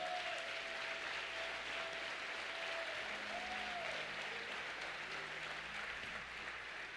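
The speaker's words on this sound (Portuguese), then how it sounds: "Pode aplaudir o Senhor" A church congregation applauds steadily at moderate volume, continuous overlapping claps, with faint tonal sounds from a voice or instrument briefly rising underneath.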